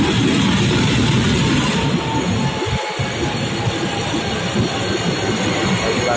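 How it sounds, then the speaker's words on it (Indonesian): Commuter rail train, a KRL locomotive shunting at a station, rolls past as a steady loud rumble with a brief deeper thump midway, continuous and close throughout. "Wah, kepala kereta ini lansir"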